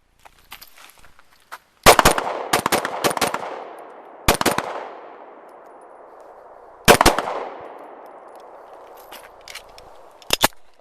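Israeli police issue Jericho 941 pistol fired at a range: loud, close, sharp gunshots in quick bursts of several rounds with pauses between, each shot followed by a lingering echoing decay.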